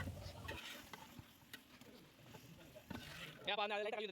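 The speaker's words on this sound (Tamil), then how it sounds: "சிக்கன் கூட நல்லா மிக்ஸ் ஆகிற அளவுக்கு நல்லா மிக்ஸ் பண்ணி விட்டுறலாம்" Chicken being stirred and sautéed in a pot while cooking a large batch of seeraga samba chicken dum biryani, with soft scraping and sizzling under speech, plus a brief louder clatter near the end.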